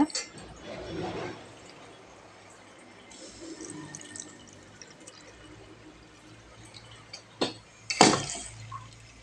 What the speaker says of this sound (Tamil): இதை இந்த வடிகட்டியில் வடிச்சிக்கலாங்க